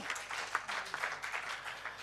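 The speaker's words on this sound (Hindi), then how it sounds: "तालियां तालियां तालियां।" Audience applause after a poem recital at a Kitab Utsav book festival in Mumbai: a crowd clapping in uneven waves, with a few sharper individual claps standing out.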